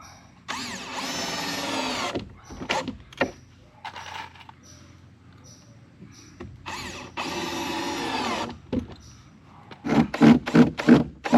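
A power drill drives screws into sauna wood, several short whirring bursts of varying length with pauses and faint handling knocks between, ending in a quick run of rapid pulses.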